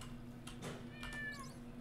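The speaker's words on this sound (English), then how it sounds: "that cat is really after me." A cat meows in the Minecraft Hexxit modpack, faint and thin over steady game background noise, with a short rising call partway through.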